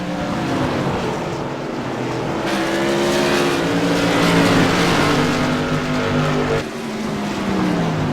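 Modified race cars circling a short oval track at Southern National Motorsports Park, engines droning loud and close with pitch sweeping up and down as cars pass and shift, a brief dip near the end.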